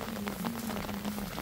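Heavy rain falls during a storm in El Salvador, a dense, steady hiss of drops spattering on surfaces over a low continuous hum.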